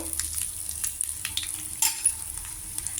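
Chopped ginger and green chilies frying in hot oil with a mustard-seed tempering, a steady close sizzle with small crackles and a couple of louder pops near the end.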